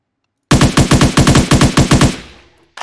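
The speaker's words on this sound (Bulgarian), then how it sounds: "Всъщност, като стрелям по-бързо, ми хаби повече патрони." Rapid-fire gun from a Minecraft weapons mod, a loud, close burst of about a dozen fast, evenly spaced shots after brief silence, ending in a short fading tail.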